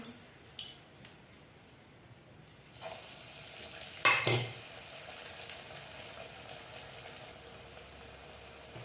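Medu vadas made from leftover chapati crumbs frying in hot oil, a steady close sizzle and bubble with a few brief clatters and one louder splash-like burst, no talking.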